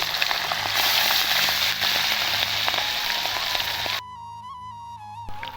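Shrimp fry in very hot oil with a loud, bright, crackling sizzle and scattered pops close by, then the frying cuts off abruptly and a steady tonal sound takes over.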